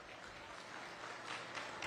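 A crowd applauds exhibitors at a youth fair feeder calf beef show, a faint, distant, steady patter of clapping that swells slightly toward the end.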